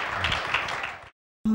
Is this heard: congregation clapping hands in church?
yes